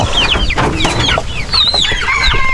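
Chickens cluck and chatter continuously while being fed, several birds close by with overlapping calls and a busy farmyard background.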